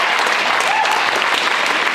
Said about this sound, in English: one more round of applause for Jake Timbes